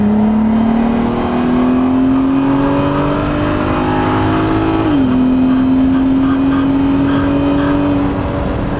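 A Mk2 VW Golf with a swapped R32 engine, all-wheel drive and a DSG gearbox pulls hard and close, its engine note climbing steadily, dropping once at a quick gearshift, then rising again. There is no talk.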